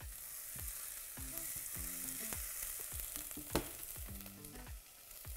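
Spring onion whites frying in olive oil for a pumpkin risotto, a continuous close hiss of sizzling with regular scraping stirs and a sharp clink partway through, no voices.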